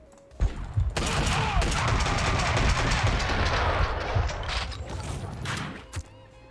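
Gunfire from Max Payne 2: The Fall of Max Payne, heard as dense, rapid bursts of shots mixed with mechanical clatter and game effects. The bursts continue for several seconds, then taper off.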